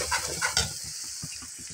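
Chilli and coriander frying in a pan while being stirred, a soft continuous sizzle with a few quick scraping strokes of the spoon near the start, close and fairly quiet, with no talking.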